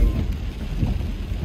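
Steady rain falls during a rainy afternoon near Dallas Fort Worth International Airport, a dense, constant hiss with a low rumble of thunder underneath, moderately loud and continuous.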